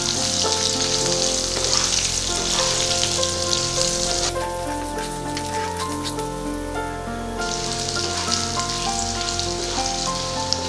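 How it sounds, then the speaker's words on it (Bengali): Potatoes fry lightly in oil in a Bengali home kitchen, giving a continuous close sizzle with occasional stirring and a brief rise in crackle partway through. No voices are heard. "এবার আলুগুলোকে একটু হালকা ভাজা ভাজা করে নেব।"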